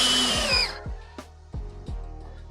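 Power drill driving screws into a wooden fence, a short high whirring burst that cuts off, followed by several sharp knocks and clicks, close and loud with no talk.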